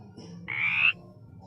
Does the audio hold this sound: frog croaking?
yes